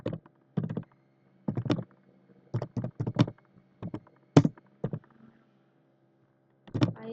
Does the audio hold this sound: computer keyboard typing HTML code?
yes